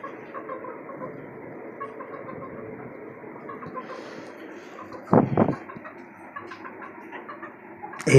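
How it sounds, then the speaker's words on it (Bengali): Desi chickens in small cages on a five-storey rooftop farm give low, quiet clucks and murmurs throughout, with a louder rattling knock midway and another sharp bump at the end. "এই আর একটা আমার দেশি মুরগি।"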